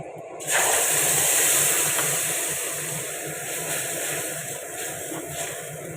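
A tomato and poppy seed paste hits a hot pan with a sudden loud burst of hissing sizzle up close, which then settles into a sustained, slowly fading spatter with no talking.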